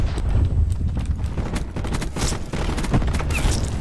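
Rapid gunfire from a poorly regarded gun in the Call of Duty Black Ops 4 video game, loud repeated sharp shots in quick bursts with a few scattered single cracks, close and filling the whole stretch.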